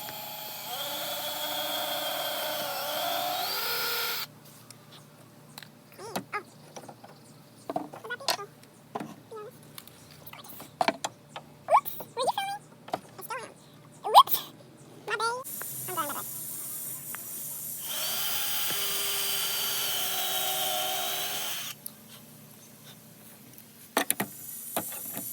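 Small drill boring screw holes in parts of a doll clubhouse: sustained whining bursts at the start and again midway, with clattering handling noises and some talk in between.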